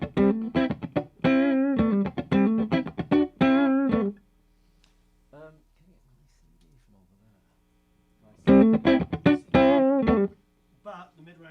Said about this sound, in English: That's a great guitar sound.